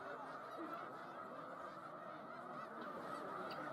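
Large numbers of migrating geese honk over a lake, a dense and continuous chorus of calls heard from a distance, steady and fairly faint throughout.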